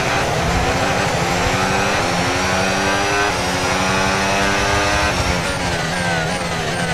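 Formula 1 car engine in the F1 26 racing game, a loud sustained high-revving whine with rising and falling harmonic sweeps as it shifts through gears, steady and close for the whole stretch.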